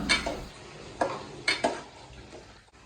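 Mango pieces sautéed in oil for pickle, a few distinct utensil clinks and scrapes against the pan over a faint background sizzle, close and sparse.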